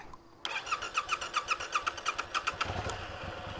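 A Yamaha MT-07 motorcycle engine cranks with a rapid rhythmic starter churn for about two seconds, then catches and settles into a steady low idle, recorded close by with no talking.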